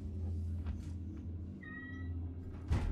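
A single cat meows once, a short near, clear call rising over a low steady hum, followed by a brief noisy burst near the end; no voices.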